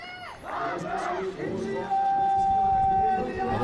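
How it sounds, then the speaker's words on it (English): A crowd at a youth archery championship cheers and applauds medal-winning under-18 compound archers, with whoops and shouts rising over the noise and a sustained tone joining midway, loud and lively. "please give a warm round of applause to our athletes."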